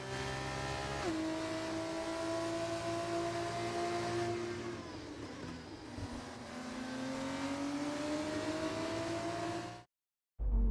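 An F1 24 race car, a Van Amersfoort, rolls into parc fermé after the race with a steady, loud engine drone that shifts pitch down and then back up before cutting off abruptly at the end.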